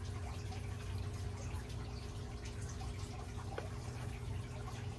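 Oil draining from a Generac 22kW home standby generator during annual service, a steady, close trickle and drip of liquid heard over a constant low hum.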